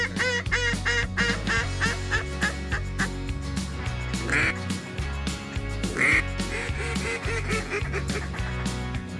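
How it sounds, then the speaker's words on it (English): A big flight of wild ducks passing overhead at a Missouri river confluence hunt, with steady rhythmic quacking that sounds close and fairly loud, repeated throughout amid other calls. "There's a big flight of ducks coming from behind us going with the wind"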